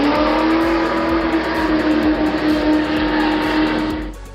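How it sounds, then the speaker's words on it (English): A custom motorcycle trike's loud engine roars steadily as it accelerates hard nearby, the sound holding strong before fading slightly at the end. "The motorcycle accelerates to 100 miles per hour in 4 seconds."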